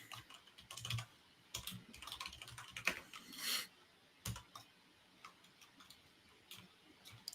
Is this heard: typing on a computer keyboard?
yes